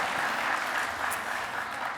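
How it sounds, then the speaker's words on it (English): Audience applause fills a hall at the HRC Chicago awards dinner, a steady dense wash of clapping heard clearly for about two seconds with no talking over it. "You don't have to clap."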